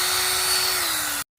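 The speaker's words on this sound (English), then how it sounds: "sanding it down" Power sander working on a car headlight lens with wet 800-grit sandpaper, a steady loud whirring drone with a faint high whine, running continuously before cutting off abruptly near the end.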